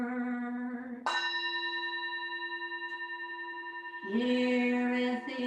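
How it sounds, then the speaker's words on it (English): A temple bell at a Buddhist service rings with a sustained, clear metallic tone and long resonant decay, then a second strike brings a fresh ringing swell near the end, with no talking. "Here is the after sound of the bell."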